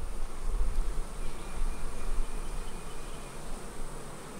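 Honeybees buzzing steadily in an opened hive with about five and a half frames of bees under inspection, a close, continuous droning hum with no voices.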